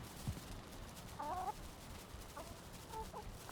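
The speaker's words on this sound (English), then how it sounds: "We have a conglomeration of hens." Hens in the video game Valheim give a few faint, brief clucks over a steady low background hum, scattered across a few seconds.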